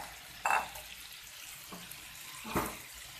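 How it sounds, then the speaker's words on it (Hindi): Water is poured from a tap or vessel into mutton keema cooking in a karahi, giving two or three brief splashing bursts over a low background sizzle. "अब मैं इसमें शामिल करूँगी थोड़ा पानी"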